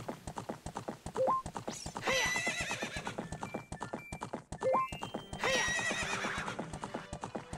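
Epona, the horse in Ocarina of Time, gallops with rapid, steady clip-clop hoofbeats while two loud whinnies ring out in turn, game sound effects heard clearly with no voice over them.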